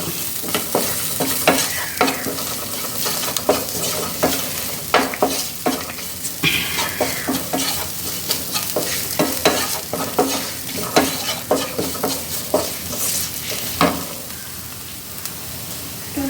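Pepper powder sizzles in hot oil in a pan, a steady close crackle with frequent sharp pops and stirring scrapes throughout, no voices.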